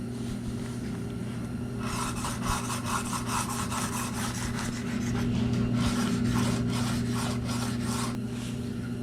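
A boning knife is drawn back and forth across a sharpening stone in steady, rhythmic rasping strokes, close and fairly loud, with a constant low hum underneath and no talk.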